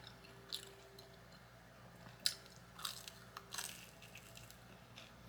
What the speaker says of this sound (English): The bread has a nice chew to it.